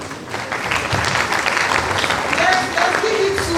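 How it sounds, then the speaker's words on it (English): An audience at a university admission ceremony for fresh students claps in a dense, steady round of applause that holds loud throughout, with a voice talking over it. "A round of applause."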